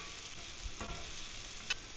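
Mushrooms sizzle in melted butter in a pan as they are tossed to coat, a steady quiet frying hiss with a brief stir or clatter near the end, no voices.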